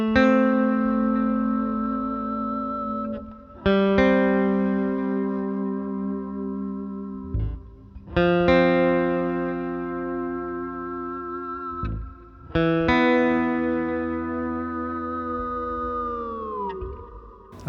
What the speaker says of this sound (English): I love using Sustainiac with clean tones. It sounds so cool and ominous.